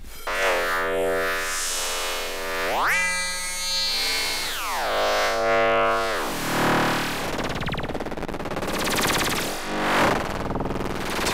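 A Piston Honda MK3 wavetable synthesizer plays a triangle wave, its tone sweeping and warping through harmonic-rich glides and pitch shifts, loud and continuous with no voices.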